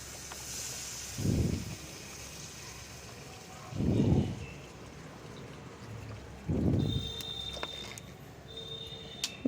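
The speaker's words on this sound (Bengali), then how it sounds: "তো কষানো হয়ে গেছে, আমি এর ভেতরে কিন্তু জলটা দিয়ে দিচ্ছি।" Water is poured into a pan of chicken curry, heard as three short gushing pours spaced a few seconds apart over a low kitchen background with faint clinks.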